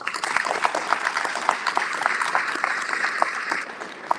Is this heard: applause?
yes